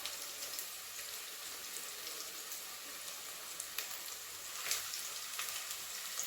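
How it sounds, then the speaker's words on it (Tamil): Chopped onions sautéing in a pan for Tamil-style chicken kulambu, a steady soft crackling sizzle throughout, close and fairly quiet, with a few slightly louder pops near the end and no talking. "வெங்காயத்தை நல்லா வதக்கிடணும்."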